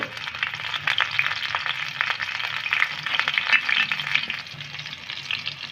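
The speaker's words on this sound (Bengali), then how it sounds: "রসুনটাকে আমি হালকা একটু আগে নেড়ে নেব" Eight garlic cloves stir-frying in hot oil in a pan on a gas stove, a steady bright sizzle with scraping stir strokes throughout, close and fairly loud with no talk.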